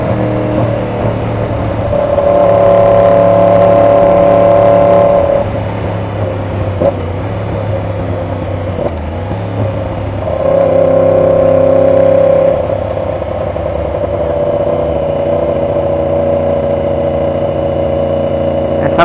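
Yamaha R1 motorcycle engine droning on a road in Tampa, Florida, a loud steady tone that rises in two surges of acceleration, with the harmonics climbing and easing back, and no talking over it.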